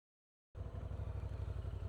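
A Honda NT1100 or Rebel 1100 motorcycle engine starts abruptly and then runs with a steady low throbbing pulse at close range.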